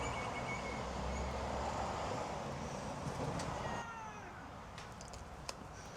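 A cat meows in a long, drawn-out wail set against a low rumbling hum of traffic. The cry fades out partway through and is followed by a few faint clicks.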